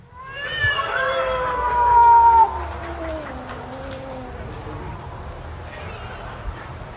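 A looped recording of a cat in heat gives one long, drawn-out yowl that wavers and slides downward, then fades into a quieter noisy background.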